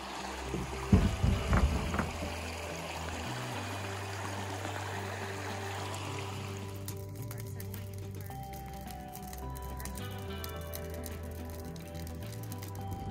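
Flowing water of the Peshiki River runs beneath a suspension bridge in Craig Lake State Park, Upper Michigan, a faint steady rush throughout, with brief knocks near the start and low hums mixed in.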